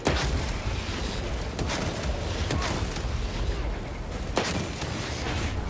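An anti-tank gun firing in Space Marine 2 amid a noisy battle, heard as several sharp, heavy cracks spaced a second or more apart over a constant rumbling din.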